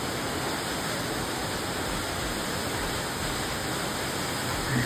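Oregon waterfall roaring as one steady, dense wash of falling water, loud and unbroken throughout, with no voices over it.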